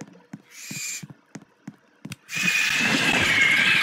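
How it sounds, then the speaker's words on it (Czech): An owl hoots in the Roblox survival game 99 Nights in the Forest, a few short calls spaced out over quiet, followed by a steady wash of in-game ambient noise. "Sova!"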